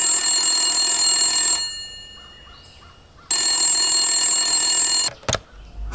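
Two long bursts of an old-style telephone bell ring loudly and clearly as a sound effect in a Bengali radio mystery drama, separated by a short quiet gap, with a brief knock at the end.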